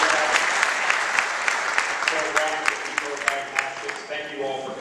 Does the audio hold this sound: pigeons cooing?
no